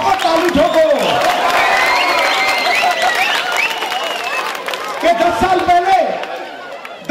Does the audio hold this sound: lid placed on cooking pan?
no